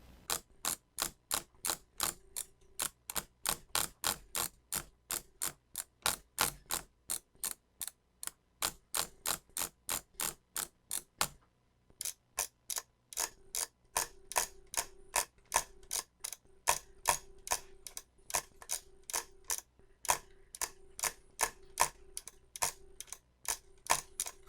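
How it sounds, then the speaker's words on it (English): Rapid bursts of sharp drag clicks on a Glorious Model O gaming mouse in fast, regular rattling runs, close and crisp, with brief pauses between streaks. "this is how it should sound when you're drag clicking"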